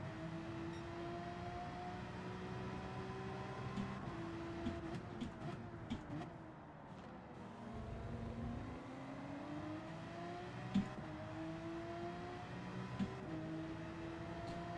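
A Porsche 911 RSR racing car's engine in a racing video game, a steady droning whine that rises and falls in pitch as it revs, fairly faint and continuous, with light clicks and no talk.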